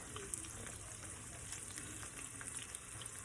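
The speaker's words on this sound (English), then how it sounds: "Okay, so it's gonna fry up." Eggs fry in a pan for huevos rancheros, giving a steady, even sizzle that carries on without a break and with no talking.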